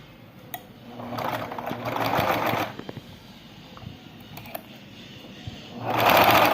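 A sewing machine stitching a fabric baby shoe, two close mechanical runs of rapid whirring stitches separated by a quieter pause with small handling clicks.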